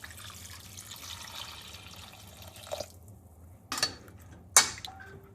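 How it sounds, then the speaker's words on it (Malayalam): Water poured into a pot of Kerala sambar: a steady splashing stream that stops, followed by two short separate pours, close and fairly quiet. "ഇനി നമുക്ക് ഇതിലേക്ക് ആവശ്യത്തിനുള്ള വെള്ളം ആഡ് ചെയ്ത് കൊടുക്കാം കേട്ടോ."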